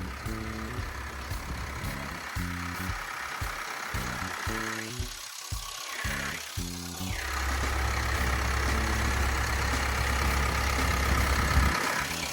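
A Hino J05E four-cylinder turbo diesel engine in a Kobelco SK200-10 excavator idles steadily up close with a rhythmic mechanical beat, then settles into an even, louder hum in the second half.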